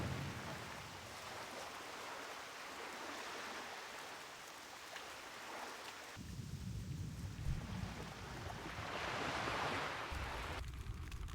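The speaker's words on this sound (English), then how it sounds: "the water sound is stupid, man" Water waves wash in a video game, a faint, continuous rushing surf that swells louder partway through and carries on steadily with no voices.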